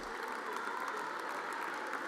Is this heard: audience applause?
yes